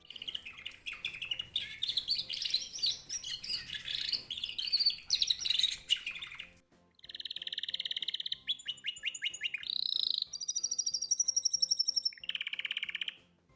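A pet canary sings alone in rapid bursts of bright trills and chirps, long warbling phrases giving way after a short pause to separate rolling trills and whistled notes, close and clear.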